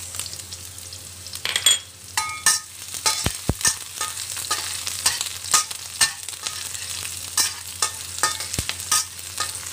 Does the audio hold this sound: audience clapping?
no